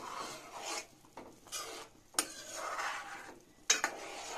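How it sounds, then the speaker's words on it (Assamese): Sugar being stirred in a pan while making paneer khurma, heard as repeated gritty rasping scrapes of a spoon across the pan surface, with a couple of sharp clicks, close and alone. "আৰু মই এইখিনি এনেকৈ লৰাই লৰাই একদম একেবাৰে চেনিখিনি বগা নোহোৱালৈকে এনেকৈ লৰাই খাওঁ"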